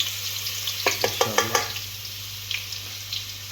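Garlic frying in oil for a baim fish curry sizzles steadily while a utensil scrapes and stirs in a quick burst of clatters, then the sizzle carries on under a few lighter taps.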